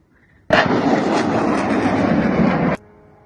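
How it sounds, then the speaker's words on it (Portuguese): A loud, sustained roar of explosion or artillery fire bursts in abruptly and rumbles for about two seconds before cutting off, heard amid a wartime attack near Kherson in Ukraine. "mais sons de explosão aí em várias regiões ali"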